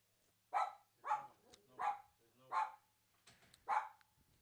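Five sharp dog barks ring out at a steady, roughly half-second rhythm, fairly close and clear over a quiet background with no talk.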